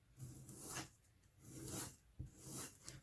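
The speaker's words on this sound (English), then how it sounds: "And I am just rolling it on the sandpaper." A leather piece rolled back and forth over sandpaper, giving soft, close rasping swishes in about four repeated strokes, quiet and unaccompanied by speech.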